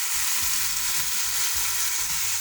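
Chicken pieces for Kabsa Al Faham sizzle steadily in a pan after being flipped, a dense, even crackling fry with soft low bumps of the pan, close up and without speech.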